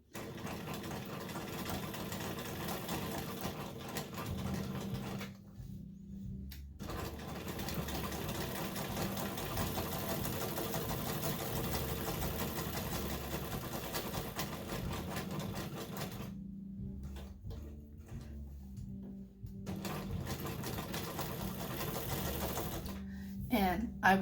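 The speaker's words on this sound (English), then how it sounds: "going to sew right on the edge" A sewing machine stitches along the edge of a quilted crumb-block fall coaster, running in a steady, close mechanical chatter that pauses twice for a couple of seconds before resuming, under occasional speech.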